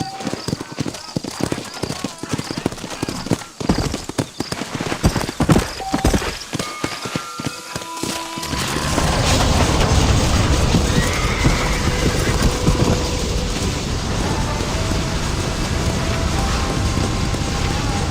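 Horse in the Red Dead Redemption video game clopping along at a walk with steady hoofbeats and a clear whinny, then wind and a rushing ambient wash take over as someone talks.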